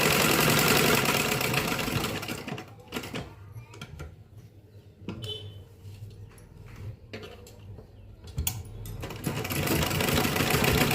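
A sewing machine stitches half an inch in from a fabric corner on an embroidered blouse, running loud and steady at the start and end with quieter, broken stretches in the middle.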